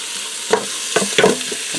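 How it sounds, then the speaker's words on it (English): A pound of ground beef browning in a pressure cooker on sauté mode, broken up with a utensil in a few quick scraping strokes over a soft, steady sizzle. "I'm going to go ahead and break this up and brown it up."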